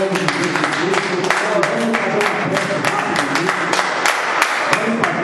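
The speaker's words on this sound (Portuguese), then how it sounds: "Glória a Deus com as palmas desta noite" Church congregation applauding during an evening service: dense, steady clapping from many hands throughout, with voices calling out over it.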